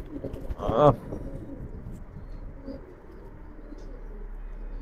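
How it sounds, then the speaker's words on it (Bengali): A large Pakistani Banka pigeon, a female, gives a single short coo near the start, close and fairly clear, then only low background noise follows. "পেয়ারটা পাকিস্তানের মধ্যে সবচেয়ে বড় জাতের কবুতর বাঙ্কা"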